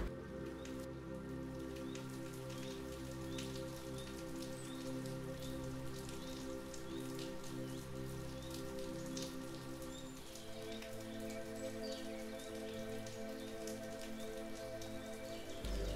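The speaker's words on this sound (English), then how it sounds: "Listen to the rain tapping on leaves and petals" Steady rain patters on leaves and petals, a dense close hiss of drops falling continuously with a soft low drone beneath and no voices.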